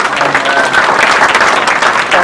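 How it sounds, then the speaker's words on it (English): Wedding guests applaud the bride, a dense, steady wash of clapping from many hands that holds loud and even throughout, without pause. "just give her a round of applause"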